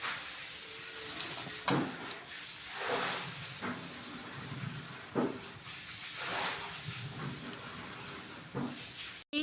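Fish curry bubbling in a pot over a clay stove gives a steady, fairly loud hiss of steam and boiling, with soft periodic bursts and faint knocks throughout and no voices.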